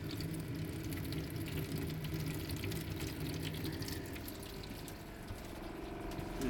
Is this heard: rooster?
no